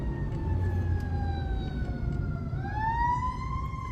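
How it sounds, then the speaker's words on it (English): An emergency vehicle siren wails continuously, its pitch sliding down slowly and then sweeping back up, loud and steady over low traffic rumble with no talking. "I see a siren."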